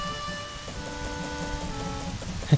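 Rain falls steadily in the video game The Legend of Zelda: Majora's Mask, a soft continuous patter under sustained tones, with one brief louder thump near the end.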